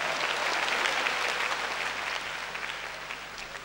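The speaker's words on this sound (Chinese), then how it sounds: "给你掌声啊" Audience applause fills a charity concert hall, a dense and even wash of many hands clapping that continues for several seconds at a moderate distance.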